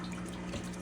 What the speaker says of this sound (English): So I'm just going to be taking the filter out and rinsing it off in here.